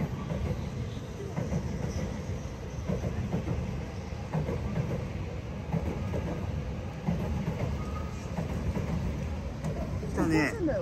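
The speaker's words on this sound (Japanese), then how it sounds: "新幹線新幹線。" A Shinkansen bullet train passes through the city, a steady rumbling rush of rail noise heard from a distance with people chatting over it.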